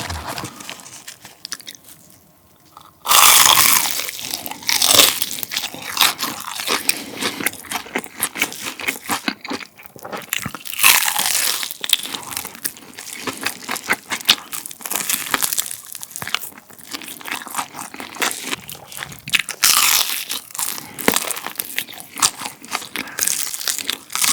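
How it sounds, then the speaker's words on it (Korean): Crunchy fried chicken, from a zero-sugar spicy chicken meal, is bitten and chewed close to the mic: loud crackling crunches and crinkly bites repeat steadily after a quiet opening, with no talking. "바삭 담백한 후라이드 치킨입니다"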